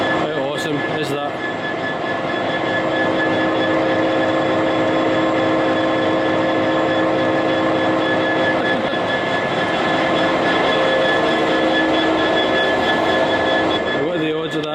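A loud, continuous rumble of a long freight train rolling past close by, droning steadily for the whole stretch with no one speaking.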